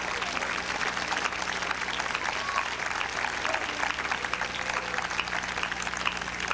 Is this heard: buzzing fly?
no